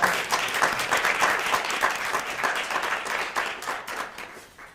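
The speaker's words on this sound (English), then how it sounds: "Let's give Mike another round of applause." Ceremony audience applauding an honoree, a dense, steady wash of many hands clapping at close range that carries on without a break and with no talking over it.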